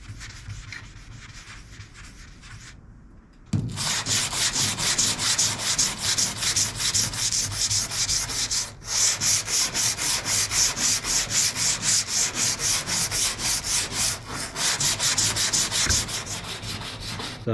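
Scuff sanding the dented area of a car panel by hand, a steady rapid back-and-forth rubbing rasp that starts after a quieter moment and runs continuously with brief pauses, close and fairly loud, no voices.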